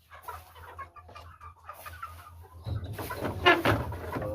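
Backyard chickens clucking close by, a run of soft repeated clucks and calls that swell into louder, busier clucking near the end over a low steady hum.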